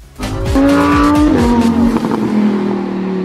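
Porsche 911 GT3 race car powering through the final corners of a lap, a loud, close engine roar with a rising then shifting pitch and tire noise, continuous throughout.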